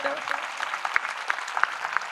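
An audience at a religious gathering gives a short round of clapping, a ragged patter of hand claps running under a voice for about two seconds.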